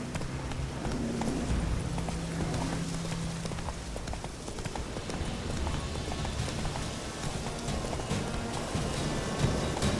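Roach, the horse from The Witcher 3, gallops in a steady rapid rhythm of hoof clip-clops, loud and close, over a constant rushing background.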